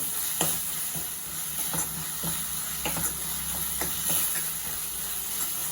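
Leafy greens fry in a pan for restaurant-style Andhra pappu, a steady close sizzle broken by a string of sharp scrapes and clicks as they are stirred.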